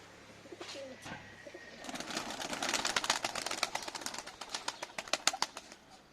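Pigeons coo softly at close range, then a busy patch of fluttering wings and rustling taps builds up around them.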